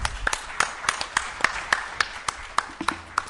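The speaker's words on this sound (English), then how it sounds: "give yourselves a round of applause" A convention panel audience at Denver Pop Culture Con claps in a quick, uneven rhythm, individual claps distinct and close, with faint voices and cheers mixed in.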